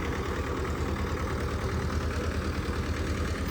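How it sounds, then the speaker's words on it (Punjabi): A new Bolt motorcycle engine runs steadily at close range, a continuous low, even rumble with a faint rhythmic knock and no voices over it. "ਸਾਡੇ ਪਿੰਡ ਮੁੰਡਾ ਬਾਈ ਨਵਾਂ ਮੋਟਰਸਾਈਕਲ ਲੈ ਕੇ ਆਇਆ ਇੱਕ ਬੋਲਟ"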